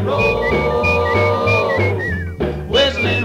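A person whistles a bright rock-and-roll melody with clear sustained notes and quick slides, loud and close over a steady backing beat and bass.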